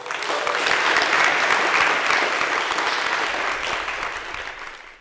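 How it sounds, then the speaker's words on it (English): A big round of applause from an audience at a talk on nuclear power and climate swells quickly into dense, steady clapping, then gradually thins out toward the end. "Can we get another big round of applause?"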